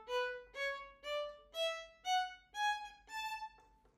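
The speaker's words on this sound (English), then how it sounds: "Staccato would sound like this." Violin playing seven short detached staccato notes with clear gaps between them, stepping gradually upward in pitch, close, clean and moderately quiet, no talking.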